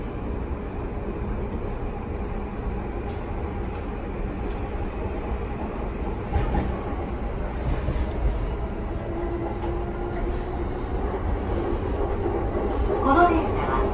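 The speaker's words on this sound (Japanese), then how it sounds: "この列車は山手線外回り大崎行きです。" Yamanote Line commuter train running in Tokyo, a steady rumble of wheels and car noise with a brief high squeal, close and continuous throughout.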